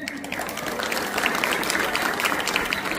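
Audience applauding a school quiz team at a student quiz competition, a dense, steady patter of many hands clapping at moderate loudness, continuing throughout without talk.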